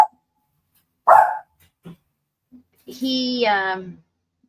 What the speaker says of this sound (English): mute mommy while the doggy's barking